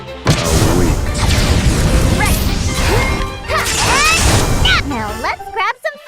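A fire spell is cast in Octopath Traveler II, a loud crashing burst with whooshing flames and a booming impact, followed by sparkling magical tones and chimes that fade out at the end.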